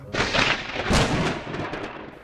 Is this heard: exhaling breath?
no